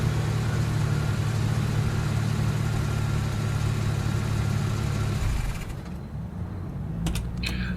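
A car engine idles steadily at the roadside on a toll road at night after pulling over, a low continuous hum up close that drops off near the end, with faint clicks as it settles.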